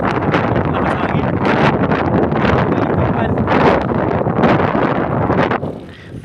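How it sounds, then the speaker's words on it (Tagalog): Strong wind buffeting the microphone during a mountain bike ride near Laguna Bay, in loud gusty roaring bursts that fill the clip before easing near the end. "Lakas hangin."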